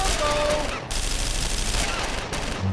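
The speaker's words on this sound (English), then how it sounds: "Swap it, pick up the machine gun. Wait for him to come in here, and..." Machine gun fire in the video game Naughty Bear crackles in a dense, loud burst of rapid shots, briefly broken by a short gap before the fusillade resumes.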